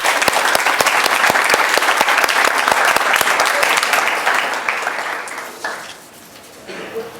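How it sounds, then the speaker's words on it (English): An audience at an evening panel discussion on entertainment breaks into loud, dense applause with sharp individual claps, which thins out and fades over the last couple of seconds. "Let's give them a round of applause for being here tonight."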